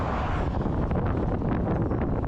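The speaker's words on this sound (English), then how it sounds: "Here's the wind." Roadside wind buffeting a microphone on Highway 3 near Creston during a cycling trip, a steady loud broadband rush that roars without pause and with no voices.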